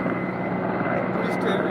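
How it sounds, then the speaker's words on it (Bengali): A helicopter lifting off from the Dirang helipad in Arunachal Pradesh, a loud steady rotor and engine roar heard from a distance, continuous and droning, with a voice speaking over it. "একটা হেলিকপ্টার দিরাঙের হেলিপ্যাড থেকে উঠে যাচ্ছে"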